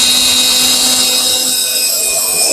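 A steady high-pitched whine of a power drill driving screws into an RV dinette shelf, running continuously at close range, with no pauses.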